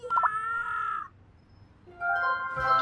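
A harsh, nasal bird call sounds twice, separated by a quiet pause, with a synthetic tone, from the video game Scribblenauts Unlimited.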